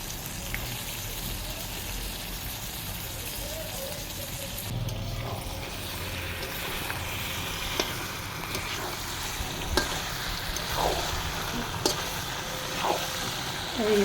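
Chicken meat frying in a pot over a wood fire, a steady close sizzle with occasional scrapes and clicks of stirring throughout, no talking.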